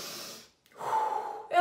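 A person breathes in and then out audibly, a close sharp inhale followed by a longer airy exhale, alone with no talking.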